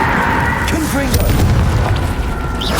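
A Confringo explosive spell blast in Hogwarts Legacy goes off as a booming burst under a spoken incantation, with rumbling low-end impact, crackle and a short tonal swoosh layered over busy game noise.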